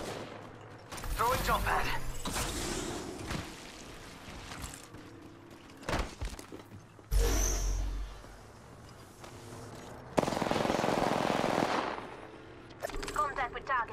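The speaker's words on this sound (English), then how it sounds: "They're shooting at me." Bursts of automatic gunfire from an Apex Legends console match come in clustered volleys with loud impacts and a long sustained barrage near the end, while a player talks over parts of the action.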